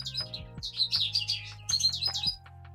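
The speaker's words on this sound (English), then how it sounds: "Oh my god, the bird is so loud." A loud bird chirps near an indoor computer workspace, rapid bright tweets in two bursts separated by a short gap, close and clear over a faint steady hum.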